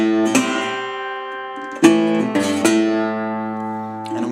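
An acoustic guitar plays a Delta blues lick, several plucked notes and strums ringing close and clear, with sustained tones decaying between attacks.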